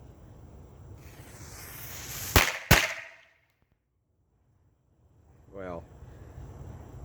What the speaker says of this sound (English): I promised you guys some fireworks